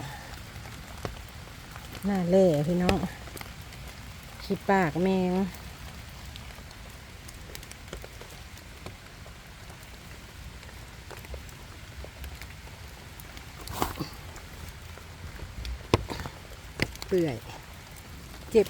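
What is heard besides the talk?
rain falling while picking mushrooms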